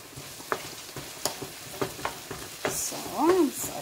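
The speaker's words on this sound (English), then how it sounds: "So I'm sauteing it." Salt mackerel and okra being sautéed in a pan for a Jamaican dish, with sharp scattered stirring clicks over a low sizzle and a brief louder scrape near the end, close and without talk.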